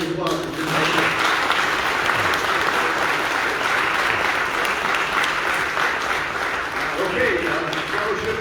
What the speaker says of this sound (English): Another round of applause for Jim.